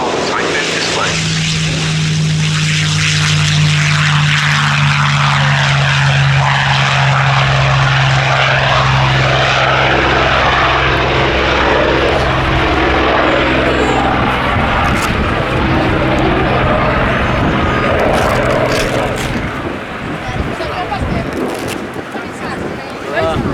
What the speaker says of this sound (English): There's the Mustang then, on the roll to get into the air